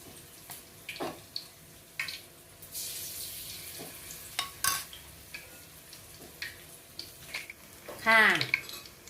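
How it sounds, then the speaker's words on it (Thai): Rice fries over medium heat as oil sizzles and crackles in a pan while a utensil scrapes and clinks against it; a voice speaks intermittently over the frying. "เอาลงทอดแล้วนะ นี่ค่ะ นี่ค่ะ ไฟกลางนะคะ"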